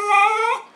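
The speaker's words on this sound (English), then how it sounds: "What are you barking at?" A dog gives a single short, high whine that rises then falls away, close and clear, with no talking over it.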